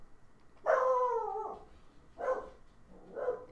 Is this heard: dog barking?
yes